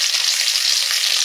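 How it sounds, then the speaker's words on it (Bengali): Kakal fish frying in mustard oil give a close, loud, continuous sizzle with a dense crackling hiss, heard alone without speech. "কাকাল মাছগুলো"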